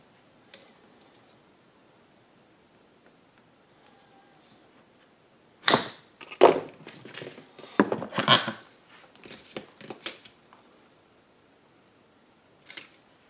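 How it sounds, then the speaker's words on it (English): Several sharp snips cut a 1/4-inch fuel hose for a Wen 2500 generator extended-run fuel kit, with a cluster of crisp, close clicks and cuts in the middle and a lone snip near the end. "The next thing we'll do is cut a 3 3/8 section of the 1/4-inch hose."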